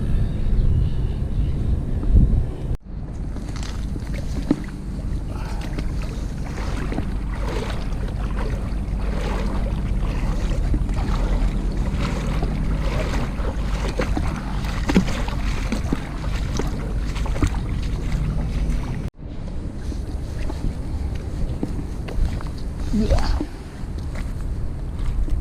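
Strong wind gusting across a mangrove riverbank, a steady broad roar buffeting the microphone for most of the stretch, with brief lulls near the start and around the two-thirds mark.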